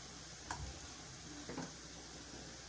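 Ginger and garlic paste sizzling softly in a pan for chicken samosa filling, a steady faint fry with two light clicks of a spoon or utensil, no voices.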